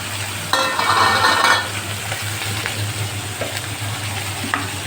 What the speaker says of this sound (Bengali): ইলিশ মাছের মাথা যেহেতু আমি খুব বেশি ভাজবো না, এটা আমি অল্প ভাজবো।